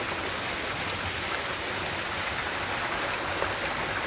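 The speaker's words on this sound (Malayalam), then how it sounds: "ഒരു വെല്ല് പോലെ കണ്ടോ അതിലേക്ക് വെള്ളം വീഴുന്നു" Water falling into a well-like structure in a butterfly garden, a steady hissing splash and trickle without break, close and even.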